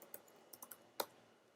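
A computer keyboard is tapped in a few quiet, scattered keystrokes, one slightly firmer click standing out near the end against a hushed background.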